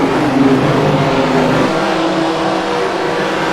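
Rallycross race car engines roaring loudly and continuously at a race, a dense, sustained mechanical drone with slight rises in pitch as cars accelerate.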